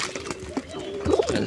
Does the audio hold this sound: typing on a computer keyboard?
no